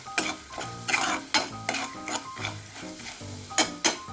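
Crushed peanuts stirred and fried in oil, with repeated loud spoon scrapes against the pan over a steady sizzle, close up with no talking.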